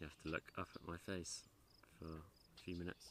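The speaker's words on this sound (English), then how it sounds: "and birds and crickets and whatever noises you can hear" Faint crickets chirp steadily beside a pond while a person talks nearby.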